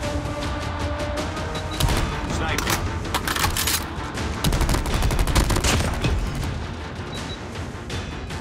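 Dense bursts of rapid gunfire from Frontline, a military video game, crackle continuously at close range, with sharp volleys and rattling automatic shots layered over low booming rumble and battlefield noise throughout.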